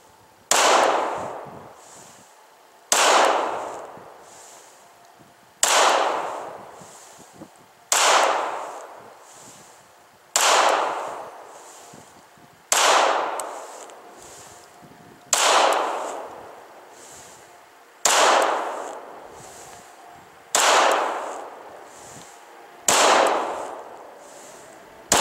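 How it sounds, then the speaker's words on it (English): Pistol shots fired one at a time during a 50-round shooting drill, about ten sharp loud reports at a steady pace a couple of seconds apart, each with a short decaying echo, no talking. "we're simply going to press out, index the front sight, press a shot"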